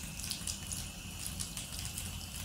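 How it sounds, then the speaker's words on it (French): Tap water runs steadily from an opened faucet into a sink, a continuous close hiss and splash with no voices. "il suffit que le tueur ouvre le robinet comme ça"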